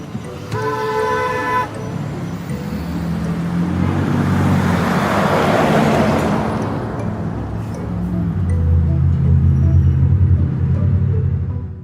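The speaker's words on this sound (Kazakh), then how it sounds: "Мынау такси." A taxi car gives a short horn toot, then its engine rumble swells as it drives past, fades, and builds again into a close, steady low roar toward the end.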